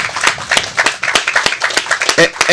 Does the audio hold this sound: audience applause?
yes